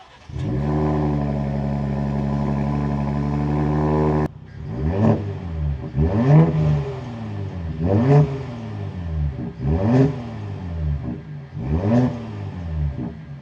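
A 2026 Ford F-150 Raptor engine, heard first as a steady loud idle with a sharp cutoff, then through five distinct revs, each rising and falling in pitch, close and clear.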